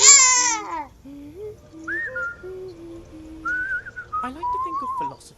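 A whistle call for the companion Indigo in the video game Skyrim: several bright, sliding tonal whistles, some bird-like and warbling, rising and falling in short phrases over a quiet background.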